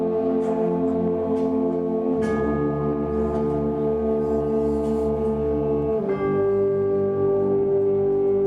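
Sustained bell-like chiming tones ring out in a school music class, steady harmonic notes that shift pitch twice and hold on, loud and close with no talking over them.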